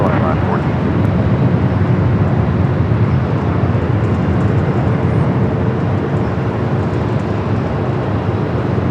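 A Boeing 747-8 freighter rolls down runway 25 left on the south side of LAX, its jet engines a loud, steady, broadband roar that holds throughout, with faint voices mixed in underneath.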